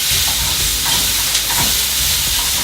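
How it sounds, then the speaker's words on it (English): Mushrooms, egg and bacon fry in a pan with pressed garlic, giving a loud, close, steady hiss and crackle that runs unbroken throughout, with no talking. "then we let that fry for just a few more minutes"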